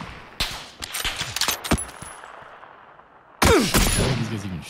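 Gunfire from enemy players in the battle-royale game PUBG, sharp bursts of shots crackling at irregular intervals, then a loud dense volley near the end.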